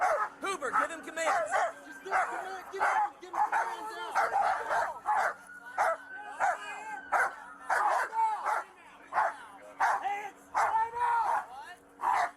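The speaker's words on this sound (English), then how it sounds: "I can't hear you over the dogs barking and shit." Several dogs bark and yip repeatedly in short loud bursts, close by and almost continuous, with some whimpering mixed in, while people talk over them.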